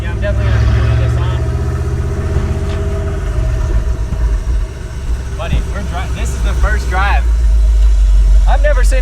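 A 5.0 V8 swapped into a Ford Ranger idles with a loud, steady, deep rumble throughout, while people talk over it.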